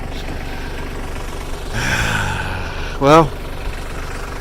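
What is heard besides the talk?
small tractor engine idling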